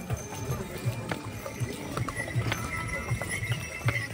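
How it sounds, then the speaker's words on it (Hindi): Horses and mules walking on a slippery snowy mountain trail on the Kedarnath Yatra route, an irregular run of hoof clip-clops and clinks over rushing outdoor background noise, with faint voices. "घोड़े खच्चर भी चल रहे हैं"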